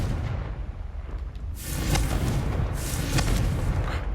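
Confringo blasting spell going off in Hogwarts Legacy on PS5: a sudden loud, deep boom near 1.5 s that rumbles on, followed by a second blast around 2.8 s, both over a steady low background.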